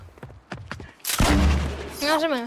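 Gunfire in the video game Fortnite: a few quick, sharp shots, then a loud sustained blast. A voice joins briefly at the end.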